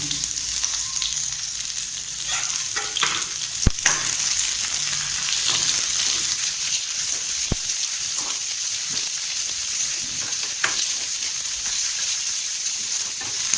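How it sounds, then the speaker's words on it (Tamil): Onions sautéing in oil in a pan for tomato chutney, a steady close sizzle and crackle running throughout with a couple of sharp clicks of utensils, no talking. "ஆயில் விட்டு ஆனியனை முதல்ல போட்டு வதக்கிக்கோங்க."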